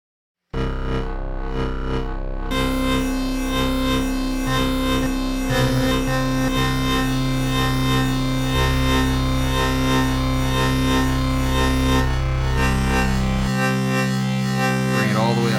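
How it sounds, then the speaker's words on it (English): An ASM Hydrasynth synthesizer plays sustained, buzzing tones pushed through its distortion effect, thick and gritty with shifting bass notes and harmonics, continuous and loud with no talking. "I want you to hear how the distortion affects these sorts of sounds."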